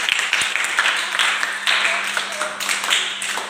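Audience applause after a Bhojpuri song at an interview gathering, a steady wash of clapping over about three and a half seconds with voices talking underneath.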